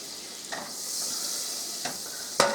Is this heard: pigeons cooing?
no